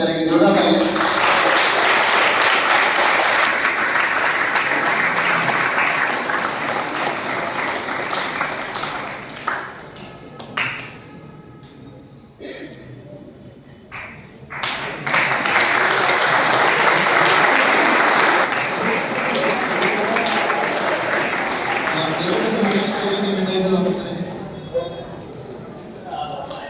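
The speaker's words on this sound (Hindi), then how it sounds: "जोरदार तालियां।" Loud audience applause at a speech event celebrating railway recruitment exam results, a dense roar of clapping that dips mid-way, then surges back strongly with scattered voices and cheers mixed in.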